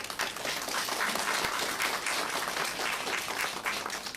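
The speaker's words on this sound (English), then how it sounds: "Please welcome him with a huge round of applause." Audience applause at a national conference on corporate and insolvency law greets a panel speaker: dense, sustained clapping from a sizeable crowd, steady in loudness for the whole stretch with no talking over it.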